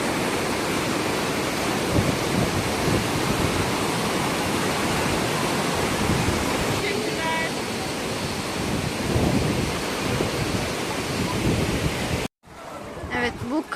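A river rushes loudly through Saklıkent canyon in Antalya, a dense steady roar of churning water close by, with a brief voice partway through before the sound cuts abruptly near the end.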